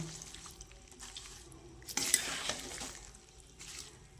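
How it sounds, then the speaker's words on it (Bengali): Spring onion greens with vegetables stirred in an uncovered pan over medium heat, soft scraping and light sizzle with a brief louder clatter of the spoon against the pan midway, no talking. "এমনি মিডিয়াম আঁচে নাড়তে থাকবো ঢাকা খুলে।"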